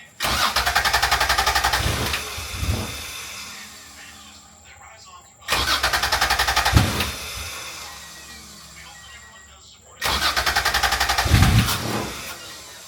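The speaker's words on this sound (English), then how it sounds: "We're going to go and try to start the car." A J-swapped Honda NSX on a lift cranks through three separate start attempts, each a loud burst of churning starter noise lasting a couple of seconds and fading out, with faint voices in the gaps.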